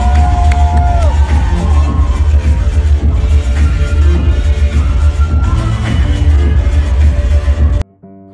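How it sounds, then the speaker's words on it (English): A large crowd cheers and applauds loudly and continuously with shouts rising over steady music, then the noise cuts off abruptly near the end. "give our Century Tuna fam a big warm round of applause"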